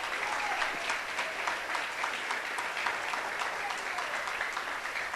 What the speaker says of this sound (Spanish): Prendele un aplauso al Señor